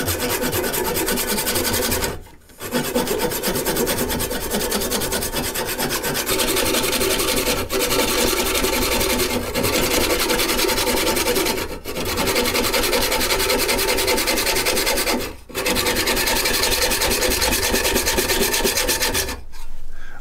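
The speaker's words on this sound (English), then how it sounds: "Now I'm just going to switch over to a handsaw and just cut it off like that." A handsaw cutting a woodturning piece off, with continuous rasping back-and-forth strokes, close and loud, pausing briefly a few times before resuming at a steady pace.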